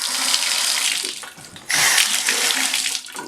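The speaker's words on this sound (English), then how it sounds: "now I got a faucet that works" A newly installed faucet runs with a steady, close, loud rush of water. It briefly softens partway through, then surges back stronger, with no speech.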